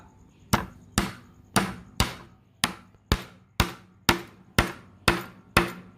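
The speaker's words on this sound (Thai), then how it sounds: "ผมจะตอกตะปูใส่อีกข้างหนึ่งนะครับของไม้ โดยการใช้ตะปูที่แช่ในน้ำมันเบนซินนะครับ" A nail soaked in petrol is driven into the edge of a piece of wood with a hammer, giving eleven crisp, evenly spaced strikes at close range, each blow ringing out and then decaying quickly.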